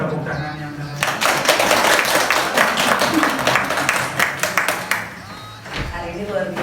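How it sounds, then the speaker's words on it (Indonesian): An audience of mothers at a parenting seminar on child psychology claps together in a dense burst of applause lasting several seconds, close and loud, with some talk mixed in before it fades. "Boleh minta tepuk tangan yang"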